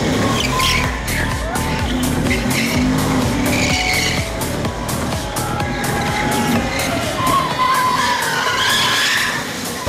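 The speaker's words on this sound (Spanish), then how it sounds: "la demostración fue un poco de drift, un poco de quemada de llantas" A supercharged Chevrolet Corvette C7 Z06 drifts at a street speed exhibition, with loud sustained tire squeal over a roaring, revving engine throughout, close by, and no talk.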